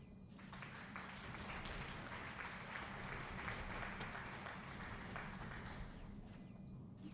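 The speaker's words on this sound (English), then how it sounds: "You get a round of applause for that one." Soundboard applause effect: a crowd clapping and cheering in a steady, dense wash for several seconds, quite faint overall.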